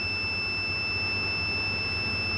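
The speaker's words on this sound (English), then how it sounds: "continuously it can beep." A buzzer on an ultrasonic sensor circuit beeps continuously, a steady unbroken electronic tone over a low background hum.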